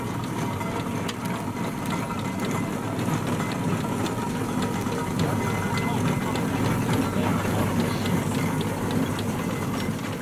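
A Burrell steam traction engine runs at a historic vehicle gathering at Powderham Castle, giving a steady, continuous mechanical churn and rumble with faint rhythmic clanking, heard at moderate distance amid outdoor rally ambience.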